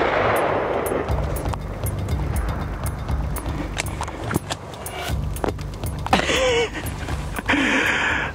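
Gunfire from a brown bear hunt in Alaska: a string of sharp shots cracking over steady wind and outdoor rumble, with a few louder reports spaced irregularly near the end.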